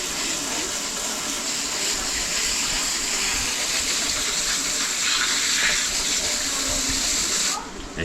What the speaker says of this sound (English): I just want to use enough water pressure, and then I make sure I clean out around the legs. I rinse the whole crab off real good.